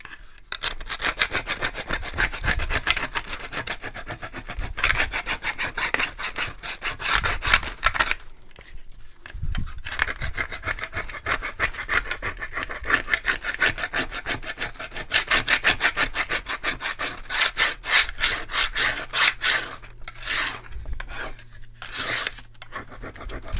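Wood is sanded by hand with regular sandpaper for a farmhouse porch shelf, giving long rapid back-and-forth rasping strokes that stop briefly midway, close and loud.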